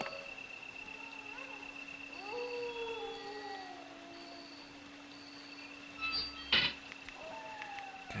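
Dogs in Resident Evil (1996) let out several drawn-out, wavering howls at moderate volume over a steady hum, and a short sharp burst of noise breaks in near the end.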